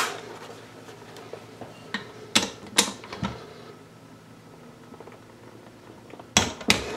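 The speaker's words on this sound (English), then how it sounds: "these get torqued to 14 foot-pounds" A metal tool clicks and clanks against a 1983 BMW R100RS transmission while its bolts are torqued to 14 foot-pounds, giving a few sharp clacks, one pair mid-clip and another near the end, over quiet background.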